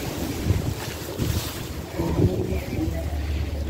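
Steady wind buffets the microphone outdoors, a constant low roar with gusts rising and falling throughout, near and fairly loud, with no talk.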